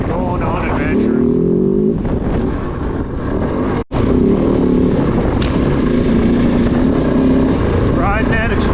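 A Kove 450 Rally dual sport motorcycle rides a hard-to-read trail on decommissioned roads in British Columbia, its engine droning steadily and close with rising and falling revs, broken by one brief dropout midway.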